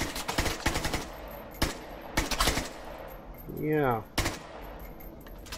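Bursts of automatic rifle fire from the Caliber online shooter, rapid clustered shots in several volleys with gaps between, and a brief spoken word in the middle.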